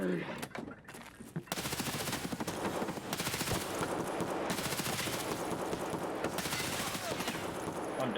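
Sustained automatic gunfire rattles through an Escape From Tarkov PvP fight, with dense rapid bursts running almost unbroken after a brief opening, and a voice briefly heard alongside.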